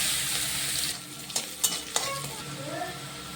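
Black cumin, garlic and onion fry in hot oil, a bright sizzle that fades slightly, broken by a few sharp stirring scrapes.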